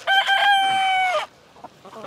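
A homestead chicken lets out one loud, drawn-out squawking call up close, followed by a few soft, brief clucks.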